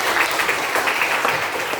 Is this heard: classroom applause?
yes